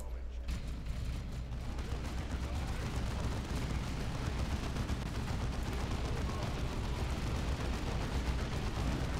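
Dense, continuous gunfire and explosions roar together in a constant, busy barrage of combat in Warhammer 40K: Dawn of War II, with no pauses.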